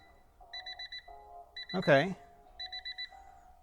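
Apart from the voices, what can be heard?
car door alarm beeping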